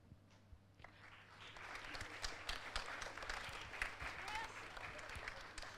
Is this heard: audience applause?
yes